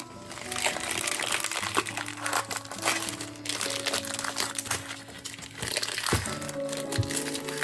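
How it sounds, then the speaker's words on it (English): Plastic bags are peeled and pulled off cast pillow-style tea light holders, giving close, continuous crinkling and crackling with sharper crunches scattered throughout. "let's see if we can get these bags off"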